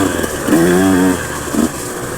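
A KTM 150 dirt bike is ridden through the woods, its engine briefly revving up and easing off in a loud, close burst lasting about two seconds.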